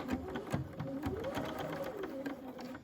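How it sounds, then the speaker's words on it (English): A sewing machine stitches through several layers of a tote bag gusset, a steady whirring run of close needle strokes with slight speed changes, near and alone. "I come to my machine over here and I'm going to sew on that line"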